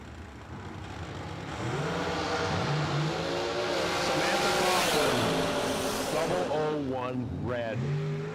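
Drag strip launch of a supercharged rear-engine dragster at a Christmas bracket race: loud engine roar building and holding for several seconds, with rising revs and shifting tones near the end, under faint announcer talk.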